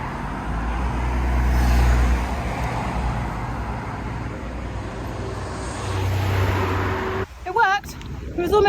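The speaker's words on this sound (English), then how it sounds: "And this is a busy road." Busy town road traffic in Cornwall, a steady broadband roar of passing cars and trucks with a deeper engine rumble swelling near the start and again later, ending with a brief burst of voice and closer noise.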